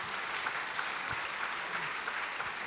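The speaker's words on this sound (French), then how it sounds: "vous gardez un peu vos applaudissements" Conference audience applauding at an economic meetings event, steady sustained clapping filling the room at moderate volume without voices.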